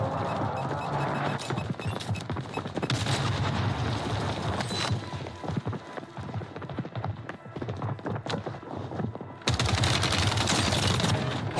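Nearly continuous video game gunfire crackles in dense automatic bursts with impacts and clatter, fading briefly partway through and then surging back loud near the end, with no talk over it.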